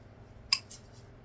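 A single quick snip of wire being cut off while a grapevine wreath is made for fall, a sharp close click over a low steady hum, with no talking.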